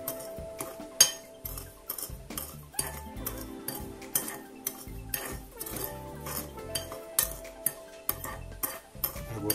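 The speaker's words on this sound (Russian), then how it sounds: "Тоже все нужно хорошенько перемешать." A spoon stirs dried cucumber slices with cinnamon and ground ginger in a dish, giving steady rhythmic clinks and scrapes of metal against the bowl, close and clear with no talking.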